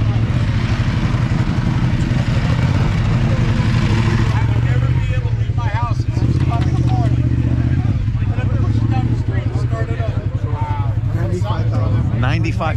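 An $85,000 Ducati motorcycle engine idles and runs with a low steady rumble, close and loud, while people talk over it.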